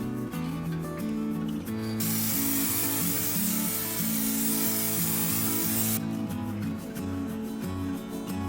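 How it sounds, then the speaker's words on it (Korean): Acrylic varnish sprayed from an aerosol can onto a 3D-pen-drawn Genji shuriken gives one steady, loud hiss lasting about four seconds over background music. "마지막 작업으로 아크릴 바니쉬로 코팅을 해줍니다."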